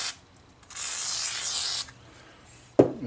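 A short, close hiss of WD lubricant sprayed from a can onto 1500-grit sandpaper lasts about a second, followed by a sharp knock or tap.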